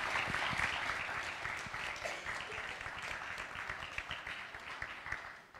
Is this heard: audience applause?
yes